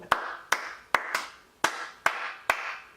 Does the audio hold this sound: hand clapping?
yes